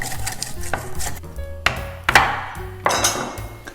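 A block of clear ice being cut into pieces: a handful of sharp, close knocks and cracks come in irregular succession, each ringing briefly and standing alone with no voices.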